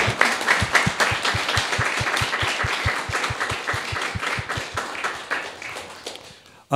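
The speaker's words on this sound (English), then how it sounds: "Let's have a round of applause for the students." Sustained applause from an audience at an art and music forum, many hands clapping steadily for several seconds before fading out.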